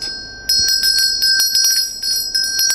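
A ritual hand bell shaken in rapid, repeated strokes, producing clear ringing metallic chimes with a sustained high shimmer, close and loud, roughly ten strikes after a softer start, with no voices.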